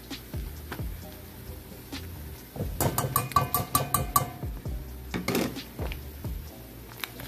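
A utensil scraping and tapping in a pan while flour is stirred into sausage drippings, a quick cluster of metallic clinks in the middle of soft clattering, fairly faint and close.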